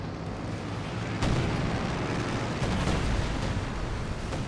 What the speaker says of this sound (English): Nice bombing run.